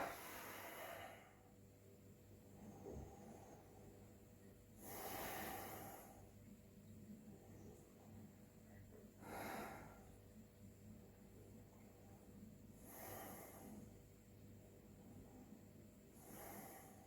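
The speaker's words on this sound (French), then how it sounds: "Et on respire." Slow, deep breathing during a seated yoga exercise: four long, soft breaths spaced a few seconds apart, faint and close in a quiet room.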